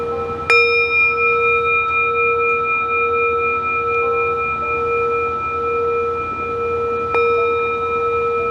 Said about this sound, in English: I'm just gonna close with a short bell.